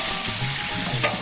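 Spices sizzle and crackle in hot oil on a brick stove for a big batch of khichuri made from 12 kg of rice, a brief continuous frying hiss with no talking.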